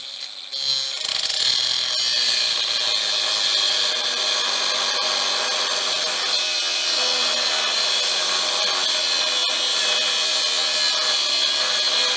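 An outer reamer is cutting away a small nub of metal, giving a continuous, loud, close grinding and whirring that runs steadily for the whole stretch without pauses or speech.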